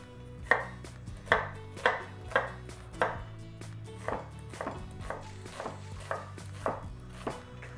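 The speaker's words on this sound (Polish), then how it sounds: "Cebulę nie będę kroił w żadną drobną kostkę" Steady, rhythmic chopping of a knife through onion on a cutting board, about a dozen even strokes, coarse rather than finely diced, with a low hum behind.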